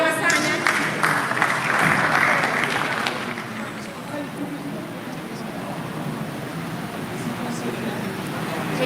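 Audience applause at a national spelling bee final greets a contestant, a dense patter of clapping loud for about three seconds before fading into softer room noise and murmur.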